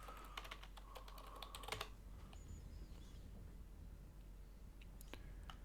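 Faint keystrokes on a computer keyboard type a search: a quick run of clicks in the first two seconds, then a few sparse taps in a quiet room.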